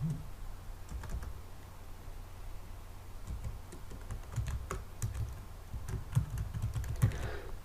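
Keystrokes on a computer keyboard tapping in uneven bursts, fairly close and quiet, with a low steady hum underneath and no voices.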